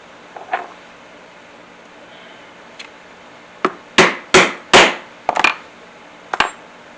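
Metal hammer strikes setting a rivet cap on a leather apron strap against an anvil: several sharp, ringing blows, a few in quick succession and then spaced out, close and loud with no voice.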